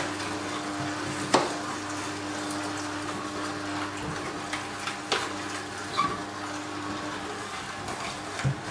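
An Oscar Pro juicer pressing celery and apples, a steady low motor hum with occasional crunching cracks and squeaks as pieces are fed in, close and without talk.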